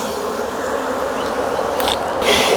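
Honey bees are shaken from a frame into a hive box and fill the air with a dense, loud, continuous buzz. A few sharp knocks and rustles near the end rise over the swarm drone, with no talking.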